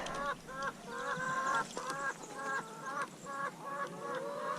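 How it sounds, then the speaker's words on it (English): Layer hens in a chicken tractor cluck and squawk in repeated short bursts, close and fairly loud, with a steady outdoor background. "Chickens clearly can't wait."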